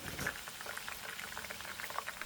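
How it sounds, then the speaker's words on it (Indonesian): Cassava chips fry in hot oil with a quiet, continuous bubbling sizzle and scattered small pops, heard alone. "Tekan-tekan singkong yang timbul ke atas permukaan supaya tenggelam ke dalam minyak yang panas sambil sesekali dibolak-balik untuk menjaga suhu minyak tetap stabil panasnya"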